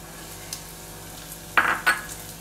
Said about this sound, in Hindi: तो अब इसमें हम गाजर को डालेंगे